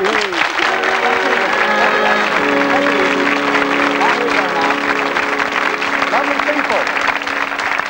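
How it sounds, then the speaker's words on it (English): Studio audience on a 1984 British game show applauds steadily and loudly, a dense wash of clapping that holds at an even level throughout, with musical tones and a host's voice running underneath. "Give them a great round of applause, folks."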